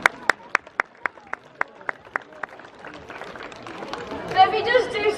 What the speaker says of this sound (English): Myself and Merlin, we love the sound of clapping.